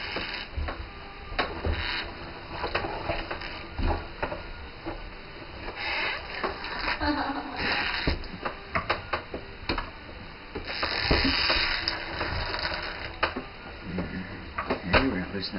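A small hand-cranked mill grinds sprouted almonds with continuous gritty scraping and rhythmic creaks and clicks, fairly close, as a person talks over the grinding.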